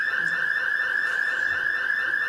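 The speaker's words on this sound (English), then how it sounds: "That's the fire alarm." A building fire alarm sounds continuously as a steady, loud, unbroken electronic tone that holds at one pitch throughout, with nothing else standing out beneath it.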